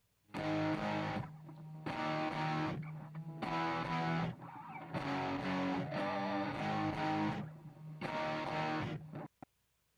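Thick layered distorted electric guitars play a rhythmic chord riff in repeated loud bursts with short gaps, full and heavy, ending with a quick final hit.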